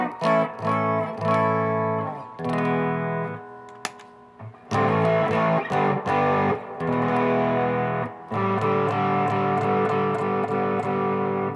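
Electric guitar played through a simple homemade distortion circuit, heard first in its clean setting: a sustained run of chords and single notes ringing out alone, with brief pauses between phrases and a fuller, brighter tone later on.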